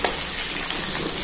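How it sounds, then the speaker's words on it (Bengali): Potatoes, cauliflower and beans fry over low heat with salt and turmeric, giving a steady close-up hiss and sizzle from the pan with no voices. "সব নুন হলুদ দিয়ে কিন্তু ভাজবো।"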